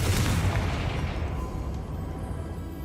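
A Confringo blast spell in Hogwarts Legacy bursts loudly at the start as a deep booming explosion, then trails off into a rumbling decay.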